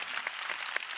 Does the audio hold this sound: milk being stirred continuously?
no